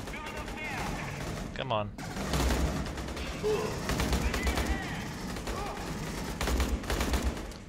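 Sustained gunfire in Aliens: Colonial Marines, rapid automatic bursts and repeated shots crackling through the scene alongside a short spoken remark.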